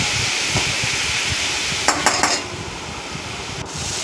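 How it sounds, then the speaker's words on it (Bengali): Ground cumin and green chilies sauté in a pan with a steady sizzle, while a utensil scrapes and clinks against the metal a few times midway. "একটু কষিয়ে নেবো ভালো করে,"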